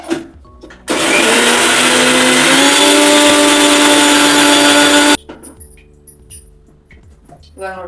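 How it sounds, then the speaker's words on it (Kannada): A mixer grinder grinds gooseberries with a little water, a loud, steady, close whirring roar that runs for about four seconds, then cuts off abruptly, leaving faint clatter. "ಸ್ವಲ್ಪ ನೀರು ಹಾಕಿ ಇವಾಗ ಮಿಕ್ಸರ್ ಒಳಗೆ ಹಾಕೊಂಡು ಸಣ್ಣ ಮಾಡ್ಕೋತೀನಿ."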